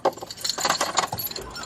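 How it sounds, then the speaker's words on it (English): Car keys jangling up close, a quick burst of metallic rattles and clinks over about a second and a half, with no talking. "Oh, I need to put the keys in the fucking car."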